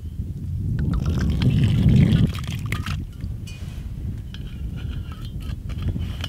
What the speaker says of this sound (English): is just to pour a little water in there.